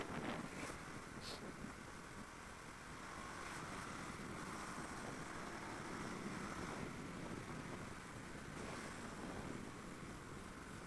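Motorbike ride on a daily collection route between Campaka and Cibeber, heard as steady, continuous wind rush and road noise buffeting the microphone throughout, with no talk.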